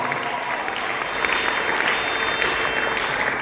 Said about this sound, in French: Donnons l'acclamation au Dieu qui sait nous consoler.